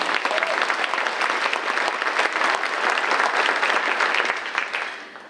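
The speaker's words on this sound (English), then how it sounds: "Give them another huge round of applause." Dense, loud audience applause at the Mississippi Magazine awards ceremony honoring Legacy Award recipients and influential African Americans, steady for several seconds before fading out at the end.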